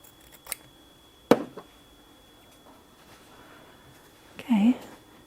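Fabric scissors make one sharp snip while trimming pressed quilt fabric, with a couple of fainter clicks nearby and a short voice near the end.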